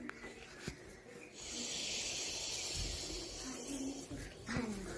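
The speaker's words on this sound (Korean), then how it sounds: "바람 소리도 들려요." Wind blows through a forest as a steady, fairly loud breathy hiss that swells after the first second and holds, with a few brief knocks and faint noises around it.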